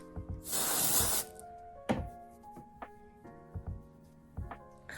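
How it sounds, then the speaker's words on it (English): A single long hiss of dry shampoo aerosol spray lasts about a second, followed by a few light knocks and clicks. "Plump of Joy dry shampoo. It smells so good. And I just take like a thin layer and spray."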